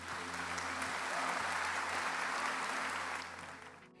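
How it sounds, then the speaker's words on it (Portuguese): A conference audience in a church setting applauds steadily for a few seconds, a thick wash of clapping over a low hum that fades away at the end. "Se você pode, aplauda Jesus bem forte."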